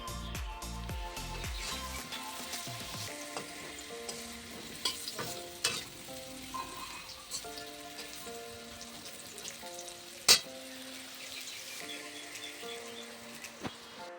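Bitter gourd, neem leaves and mango fry in a pan, a soft steady sizzle with occasional stirring scrapes and clacks, one sharp clank standing out, close and fairly quiet.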